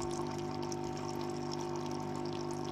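An automatic shower sprinkler sprays water over growing bean sprouts, a continuous loud hiss of falling water with a steady pump hum beneath, no voices.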